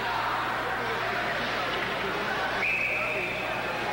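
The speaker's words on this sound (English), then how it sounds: "they finally do get a whistle" A referee's whistle at an ice hockey game between Canada's Olympic team and Dynamo Moscow: one sustained shrill tone late on, over constant arena crowd noise and a commentator talking.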